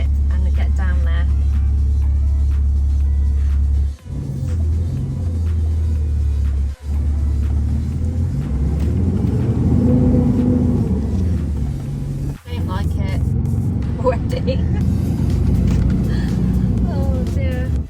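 A car drives down a country lane and pulls out onto a main road with some traffic, its engine a steady, loud low rumble throughout, broken by a few brief dips, with speech running over it.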